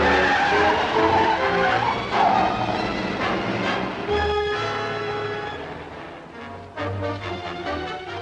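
A 1940s car drives off with its tires skidding and squealing loudly, the engine roaring close by before fading slightly, then another burst of screeching.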